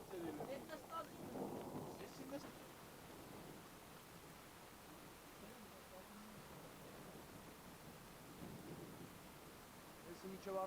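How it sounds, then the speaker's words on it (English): A thunderstorm on a mountain during wartime in Armenia and Azerbaijan: low rumbling thunder swells early and again near the end over a constant hiss of rain, with faint voices briefly audible. "we spent one night taping a thunderstorm"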